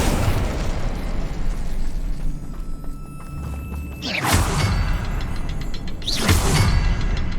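Accio summoning spell cast in Hogwarts Legacy on PS5, two bright sweeping magical whooshes a couple of seconds apart over a continuous low rumbling game ambience.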